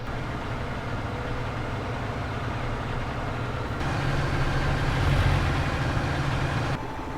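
A tractor engine idles steadily in Farming Simulator 19, a low continuous diesel rumble that swells a little louder partway through before settling back, with no talk.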